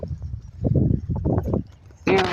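Cows walking past along a rural road, their hooves clopping in an uneven run of dull knocks under a voice, ending in a louder burst of noise.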